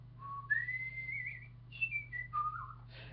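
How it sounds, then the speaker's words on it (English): Someone whistles a simple wandering tune in clear sliding notes, steady over a low background hum, with no talking. "I'm whistling right now."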